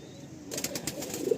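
Loft pigeons kept for sale coo softly in a short, low burble close by, with light rustling around them.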